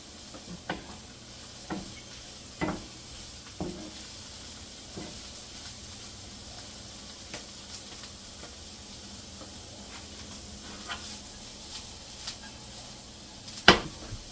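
Finely minced garlic from two cloves sizzles quietly in a pan after eggplant for a ratatouille lasagna, a low, steady frying hiss broken by scattered soft taps and one sharper clack near the end.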